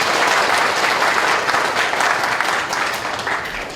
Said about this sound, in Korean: 시베드 파트에게 큰 박수 부탁드립니다.